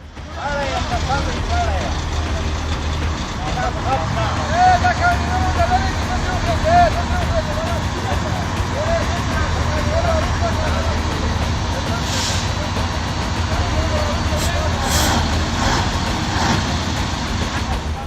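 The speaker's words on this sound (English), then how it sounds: "a truck overloaded to the limit wobbles down the road, barely staying upright." An overloaded truck wobbles down a road in Afghanistan, its engine a steady low rumble with rattling and squeaks, while a voice speaks over it throughout.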